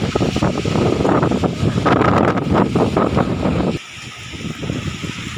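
Strong storm wind in Kalasin, Thailand, roars and buffets loudly against the microphone, with rain beginning, easing somewhat near the end but continuing throughout.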